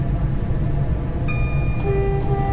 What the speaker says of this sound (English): Two pendolinos are simultaneously crossing the Watford Junction